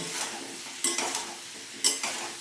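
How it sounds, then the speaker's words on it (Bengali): A spatula stirs ground spices, coriander powder among them, in a frying pan, scraping from bottom to top in two pairs of quick scrapes and clinks over a light sizzle. "দিয়ে আমি খুন্তি দিয়ে আরও ভালোভাবে তলা থেকে উপর পর্যন্ত মশলাগুলোকে ভালোভাবে মিশিয়ে নেব"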